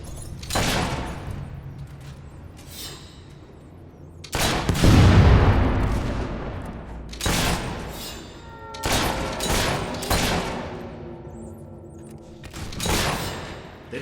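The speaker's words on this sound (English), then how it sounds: "Shooting." Gunfire in the Fable III video game: repeated loud bursts of shots and impacts in several separate volleys, with short pauses between them and no talk.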